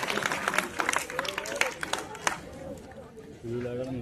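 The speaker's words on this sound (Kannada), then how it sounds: "ಎಲ್ಲರೂ ಜೋರಾದ ಚಪ್ಪಾಳೆಯ ಮೂಲಕ ನಿಮ್ಮ ಒಂದು ಖುಷಿಯನ್ನು ವ್ಯಕ್ತಪಡಿಸಬೇಕು" Audience applause at a school honour ceremony, a spread of claps and crowd chatter mixed with speech, settling into quieter murmur with a voice at the end.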